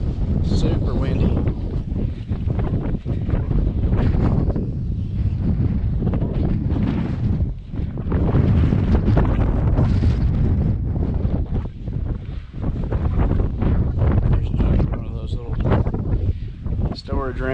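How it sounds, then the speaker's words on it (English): Strong wind roars and buffets against the microphone in heavy, continuous gusts at Fort Morgan, Alabama, with a voice faintly talking beneath it. "Super windy."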